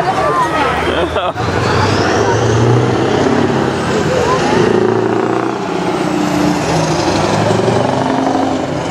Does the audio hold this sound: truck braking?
yes